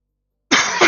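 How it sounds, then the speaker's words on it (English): A single harsh, close cough bursts out after a stretch of silence, followed by a second rough push of breath at the end. "Sorry, coughing my lungs out."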